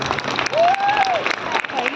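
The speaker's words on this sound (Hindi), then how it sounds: "उनके लिए भी एक बार जोरदार ताली बजाएं।" An audience claps in a hall in Nagpur after a Shiv Tandav recital, a dense burst of applause heard under a voice, with a brief whistle rising through the middle.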